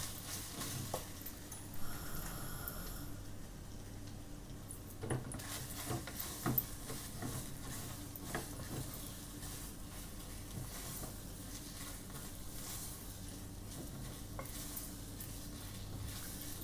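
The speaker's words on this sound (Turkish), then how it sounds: "Hepsini karıştırıyorum." Baby food purée ingredients stirred in a pot, a steady scraping and stirring with faint sizzling underneath and occasional utensil knocks against the metal, close and fairly quiet, with no talking.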